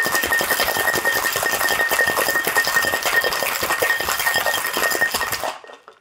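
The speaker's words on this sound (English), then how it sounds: "Add our cocktail. Give it a nice shake." Cocktail ingredients and ice are shaken hard in a big tin shaker, giving a dense, rapid, continuous rattle of ice against metal that cuts off abruptly after about five seconds.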